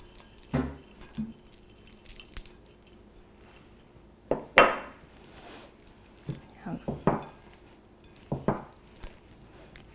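Chocolate and coconut being mixed into scone dough in a bowl, heard as scattered clinks, scrapes and soft thuds from a spoon against the bowl, arriving in short irregular bursts.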